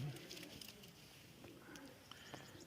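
Pigeons of the Bashar breed coo softly in a loft, low murmuring calls repeating over a faint ambient background with no clear talk.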